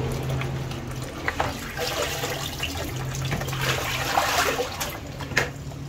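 Tap water runs steadily into a kitchen sink as vegetables for chopsuey are rinsed, a continuous close splashing with small bursts where the flow hits the produce.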